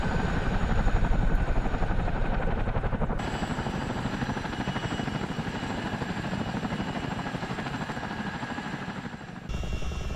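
Chinook twin-rotor helicopter in Microsoft Flight Simulator, flying over wildfire country near Banff in Canada, a continuous heavy rotor thrum and engine whine, loud and steady throughout with slight shifts in tone.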